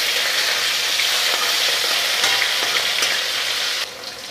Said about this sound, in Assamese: প্ৰথমতে মই মাছখিনি এতিয়া ভাজি ল'ম